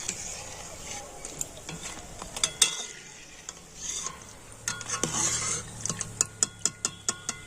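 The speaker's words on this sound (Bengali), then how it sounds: "এই স্ন্যাক্সগুলো আমি সুন্দর করে লাল করে ভেজে নিয়েছি আর এখন আমি তুলে নেবো" Fried red lentil snacks being lifted out of hot frying oil with a metal utensil, giving a steady soft sizzle broken by sharp scraping clinks against the pan, which come in a quick regular series near the end.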